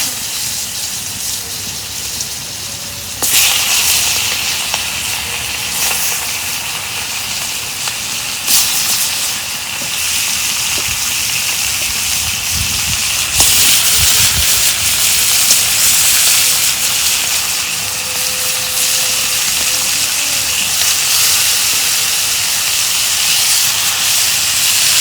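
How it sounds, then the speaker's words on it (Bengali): Pangas fish fillets fry in hot oil in a pan, giving a steady loud sizzling hiss that lasts throughout, with sharp surges in intensity at a few moments as the fish shifts or more oil spits. "মাছ ভাজা হচ্ছে"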